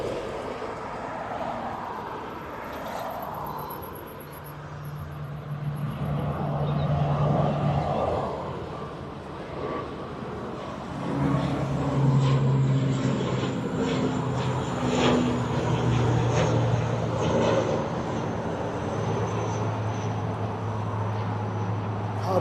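An ATR turboprop aircraft at Dublin Airport hums at a distance, its propeller drone rising and settling in a steady tone over a broad airfield background.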